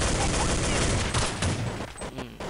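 Kriss SV submachine gun in the Point Blank shooter fires in rapid continuous bursts, loud and close, with a brief pause near the end.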